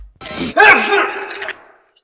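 A single loud, strained sneeze in the 1993 Super Mario Bros film, rising sharply then trailing off into a drawn-out moaning tone, close and alone.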